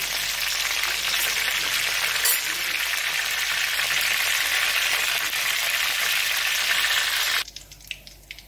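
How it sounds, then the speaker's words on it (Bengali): Cumin, dried chilli, bay leaf, cinnamon and cloves fry in hot oil with a loud, dense, steady sizzle that cuts off abruptly near the end, leaving quiet background. "তেলে আমি জিরে, শুকনো লঙ্কা দিলাম, তেজপাতা দিলাম, দারচিনি আর লবঙ্গ দিলাম"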